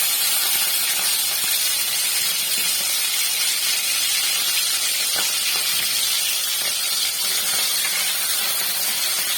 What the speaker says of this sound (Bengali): তেলটা গরম হয়ে গেছে, এর মধ্যে আমি চিংড়ি মাছগুলো দিয়ে দেবো।